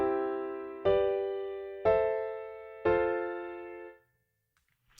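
A I-V-vi-IV pop chord progression, likely on piano, sounds as three struck chords about a second apart, each ringing out and decaying. Playing stops just after four seconds and near silence follows.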